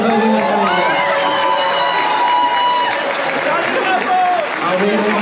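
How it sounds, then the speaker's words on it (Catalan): Crowd noise rises at an outdoor giants festival in Palma, Mallorca, with applause, cheering and children's shouts forming a loud, dense wash, while voices carry through the crowd the whole time. "Un fort aplaudiment per la"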